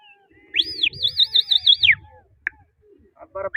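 Pigeon-fancier's loud warbling whistle rises and trills at a village pigeon flying contest, followed by a sharp chirp and a burst of rapid clicks, with faint crowd murmur beneath.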